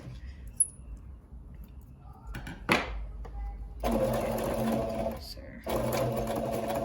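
A Brother PE800 sewing and embroidery machine stitches a fabric diaper cover, its fast mechanical whir running in two long bursts separated by short pauses and small clicks, close and steady.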